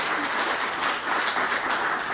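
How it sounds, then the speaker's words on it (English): Audience applause for a speaker named Ed at a tourism forum in Lancaster County; a short, even burst of many hands clapping, moderately loud and steady throughout without talk. "round of applause for his time"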